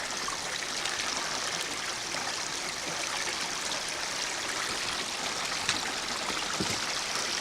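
Water from a stream on the Appalachian Trail rushes and trickles over rocks, a steady close hiss that fills the whole stretch with no voices.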